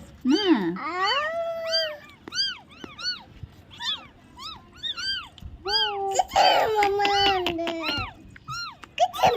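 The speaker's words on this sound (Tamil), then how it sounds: "குட்டி மியா." A kitten meows repeatedly at close range, rising and falling cries coming in quick bursts for several seconds, with a couple of longer drawn-out calls.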